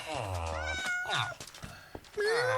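Several drawn-out Minecraft cat meows, loud and close, rising and falling in pitch, with a second cat-like cry near the end.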